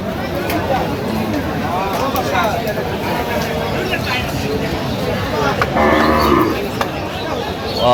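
Dairy cows and calves moo repeatedly at a busy cattle market in Aftabganj, Dinajpur, with lowing calls rising over constant crowd chatter and people talking nearby.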